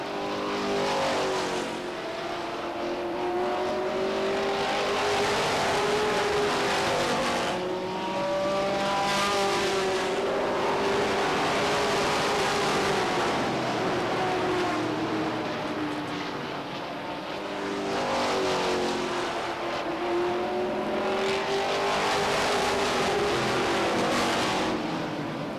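Race cars roar around Beech Ridge Motor Speedway during a 1993 weekly stock car race, engines loud and continuous with rising and falling pitch as the pack passes.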